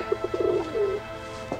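Pigeons in a pigeon cage coo softly. A short run of clear, mid-distance coos is followed by a longer drawn-out coo, with a brief flutter-like thump near the end and no talking.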